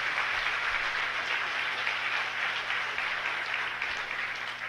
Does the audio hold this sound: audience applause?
yes